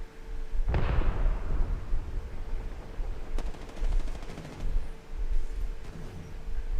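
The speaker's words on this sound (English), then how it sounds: "Shots fired." Gunfire in the video game Apex Legends, a loud opening blast followed by rapid automatic bursts and scattered single shots, with echoing booms throughout.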